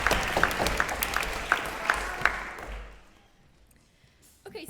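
A debate audience at the Trinity College Dublin Philosophical Society breaks into loud, crackling applause with sharp individual claps, fading out after about three seconds into near silence before a brief noise at the end.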